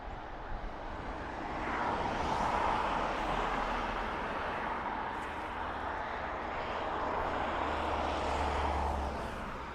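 A 21-year-old airliner arriving at Dublin Airport from Frankfurt makes a broad, steady jet roar with a low rumble underneath, rising a little and then holding, heard from a distance outdoors.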